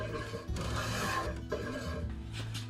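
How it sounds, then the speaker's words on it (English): A spokeshave shapes a wooden walking stick by hand, producing repeated rasping scrapes in short strokes, fairly quiet and close, with no talk. "I started to shape it with a spoke shave."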